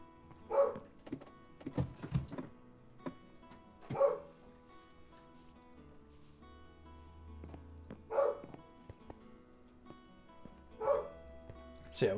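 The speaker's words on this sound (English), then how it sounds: "I don't know what he's barking at." Dog barking in the background, single barks repeated every few seconds at moderate distance, alone over faint tonal background sound.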